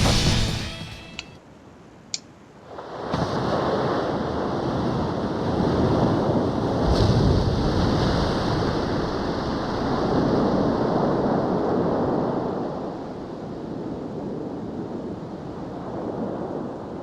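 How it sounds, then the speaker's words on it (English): In Ace Combat 5: The Unsung War, the giant submarine Rimfaxi breaks through the ocean surface with a loud, sustained rushing roar of churning water and wind that swells after a few brief sharp clicks. "The Rimfaxi's antenna has appeared above water. It's surfacing."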